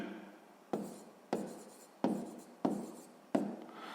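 Pen writing a number on paper during a sixth-grade maths exercise: five or six short, scratchy strokes at a steady pace, close and faint, each starting with a sharp tap, with no talking.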